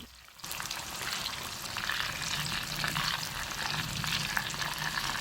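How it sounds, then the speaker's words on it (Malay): Chicken pieces fry in hot oil in a pan for a Malaysian balado dish, giving a steady close, dense sizzle with faint stirring and no talk. "Ayam ni saya goreng setengah masak je."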